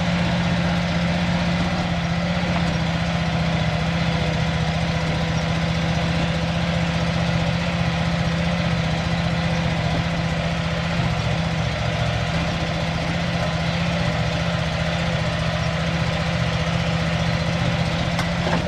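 A Ford F600 dump truck engine runs steadily at low RPM, a constant loud drone with a strong low hum, unbroken throughout with no voices.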